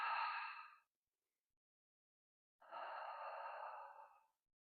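Two long, deep breaths, an exhale and then a slower one after a pause, come close and fairly soft during a tennis ball trigger point release, each trailing off into silence.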